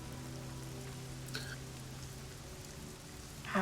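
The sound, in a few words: rain falling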